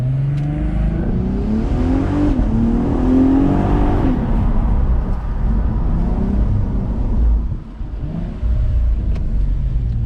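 A Cadillac ATS-V pulls away on launch control, its engine note climbing through rising revs and gear changes, loud and close from inside the car, steady rumble throughout.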